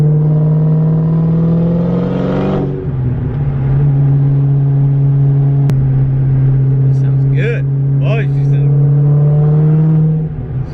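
A supercharged Cobra car engine hums and rises in pitch as it accelerates, a steady loud drone throughout, with a person speaking briefly over it.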